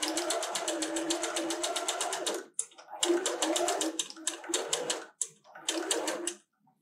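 A sewing machine runs close by stitching a quarter-inch quilting line on a churn dash quilt square, its rapid needle rhythm running in long bursts with short pauses between runs.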